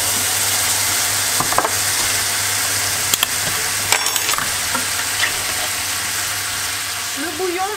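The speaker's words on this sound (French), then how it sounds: "On va ajouter, hop, les tomates concassées, donc les deux boîtes." Two cans of crushed tomatoes hit hot chorizo in a pan, bringing a loud, steady sizzle and frying hiss, with spoon scrapes and clinks of stirring breaking through, and a voice briefly heard near the end.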